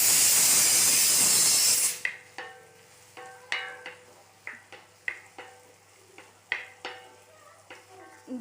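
Tomatoes going into a hot pan for chicken curry set off a loud, hissing sizzle for about two seconds, then settle into quieter frying broken by a series of sharp scrapes and clinks from stirring.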